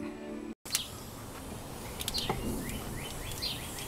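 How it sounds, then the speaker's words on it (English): Small birds chirp in short, bright calls scattered over quiet outdoor background hum, faint and fairly distant, with no one speaking. "you listen to these birds here"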